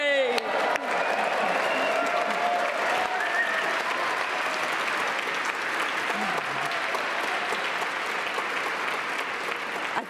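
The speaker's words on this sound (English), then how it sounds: "I'd like to hear lots of cheering and lots of applause to say a happy 30th to the web." A large audience at a London event celebrating the World Wide Web's 30th anniversary applauds and cheers continuously, a dense, loud wash of clapping with whoops throughout and no pause.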